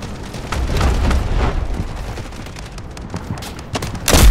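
Gunfire in the video game Delta Force: Hawk Ops, a dense rolling barrage of shots and booms that continues throughout and swells at the end, with no talking.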